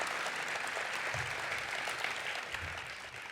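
Steady applause fills a youth charity breakfast event, a dense wash of clapping from the seated audience throughout, moderately distant and fading slightly near the end.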